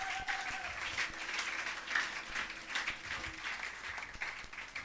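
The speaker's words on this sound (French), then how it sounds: "Est-ce qu'on peut acclamer les seigneurs?" A church congregation applauds and cheers for the Lord, a steady wash of clapping from many hands with scattered sharper claps and faint voices mixed in, continuing throughout.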